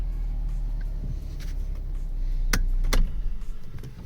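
A 2016 Mercedes E-Class fitted with an immobiliser system starting up: a steady low hum, then a couple of sharp clicks as the engine catches and the rumble swells slightly louder.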